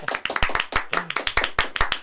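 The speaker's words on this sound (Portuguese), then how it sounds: "Salve de Aplausos, palmas." Audience in a Brazilian talk-show studio clapping for a pastor guest, a close, sparse burst of individual sharp hand claps in an uneven rhythm, lasting about two seconds.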